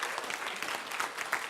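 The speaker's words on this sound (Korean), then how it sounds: "박수." Audience applause at a health seminar: a brief, even wash of many hands clapping together, steady and moderately close.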